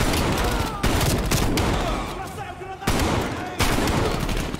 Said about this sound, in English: Why is this shotgun not a one-hitter?